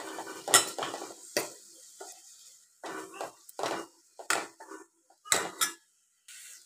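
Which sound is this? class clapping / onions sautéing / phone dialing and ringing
onions sautéing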